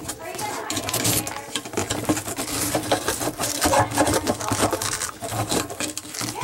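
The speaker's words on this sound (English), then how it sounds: "May take a little tapping to get these to separate." Someone taps and pries at the plastic pump housing of a Maytag dishwasher during a repair, making irregular knocks, scrapes and rubbing clatter close by, with continuous activity throughout.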